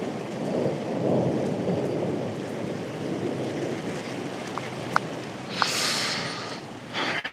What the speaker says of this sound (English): I'm getting more rained on.